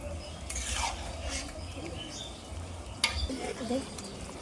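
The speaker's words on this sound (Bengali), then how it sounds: "অবশ্যই নেড়ে চেড়ে কষাতে হবে যেন কোনোভাবে কড়াইয়ের তলায় লেগে না যায়" Mutton being stirred and sautéed in a kadai over medium heat, with scraping and soft clinks of a spoon against the pan over a low sizzle, one sharper knock near the end.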